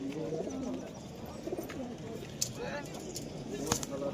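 Pigeons held by a seller at Beldanga market cooing in low, rolling bursts amid busy market noise, with people talking nearby and a couple of sharp clicks.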